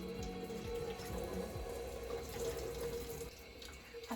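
Tap water runs steadily into a washing machine drum being filled to wash wigs, a continuous rushing flow with a faint low hum underneath, close and alone with no voices.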